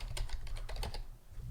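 Quick run of computer keyboard keystrokes, about a dozen crisp clicks in a rapid uneven rhythm, close and clear with no talking over them.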